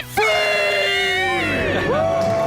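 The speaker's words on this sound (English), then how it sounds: "Let's hear a debt-free scream." A family, children among them, lets out a loud, close group scream celebrating paying off debt, one sustained shout of about two seconds with voices rising and falling together.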